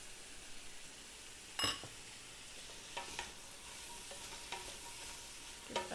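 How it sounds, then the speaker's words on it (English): Onion and red pepper fry in melted butter for corn chowder, with a soft, steady sizzle broken by a few sharp scrapes and clicks as the pan is stirred. "Now that the butter is melted, we're going to add our onion and our red pepper and our spices"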